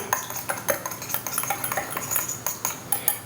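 A small whisk picked up from among metal kitchen utensils, with a quick series of close, light clinks and rattles of cutlery against each other.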